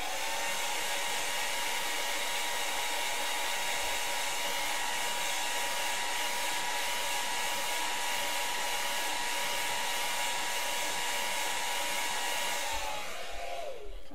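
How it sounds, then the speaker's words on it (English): A hair dryer blows steadily on cool to dry chalk paste on a stencilled surface, a loud continuous whir and hiss that holds evenly for many seconds before winding down at the end. "I'm going to hair dry, cool it."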